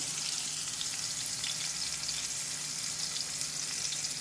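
Chutney ingredients frying in hot oil for an Andhra-style chutney, a steady dense sizzle and crackle running evenly throughout, close and moderately loud with no voices.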